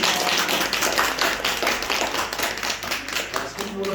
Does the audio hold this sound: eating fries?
no